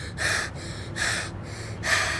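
A boxer dog breathes heavily and snorts up close: three loud, evenly spaced raspy breaths with quiet gaps between them and no talking.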